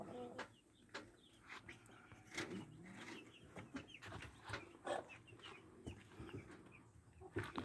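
Chickens, broilers and a few laying hens, clucking on a farm, soft irregular calls scattered over a quiet low background with faint talk.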